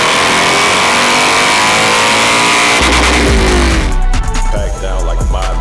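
Chevrolet 3.0 Duramax LZ0 diesel pickup truck driving off, with a steady loud engine and road noise that deepens into a rumble as it pulls away and gathers speed.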